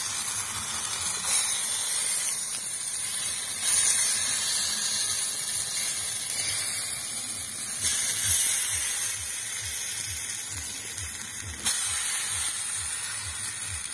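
Rice batter sizzles on oil in a hot clay pitha mould, a steady, loud hiss with soft crackle and faint bubbling throughout, no voices.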